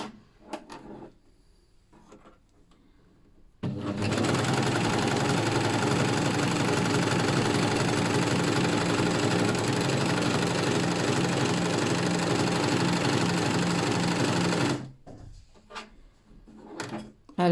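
Coverstitch machine, the Success Celine, stitching across a thick double-overlocked seam bump; a steady, loud mechanical hum runs for about eleven seconds before stopping, with quieter handling noise before and after.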